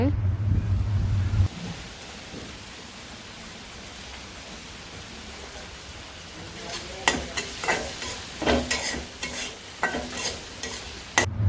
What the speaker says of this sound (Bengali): এখন পেঁয়াজ কুচি দিয়ে দিই পেঁয়াজটা ভাজি ভাজি হইব